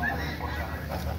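A goose honks briefly at close range near a dry lagoon on an outdoor walk, a short nasal call over low background rumble.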